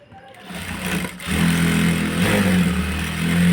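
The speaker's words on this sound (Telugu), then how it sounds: "ఇలా కుట్లు వేసేసి యథావిధిగా మళ్ళీ మనం ఇక్కడ కుట్టు వేసేయాలి" A sewing machine stitches the side seam of a blouse, its motor starting up and settling into a steady, close, whirring run.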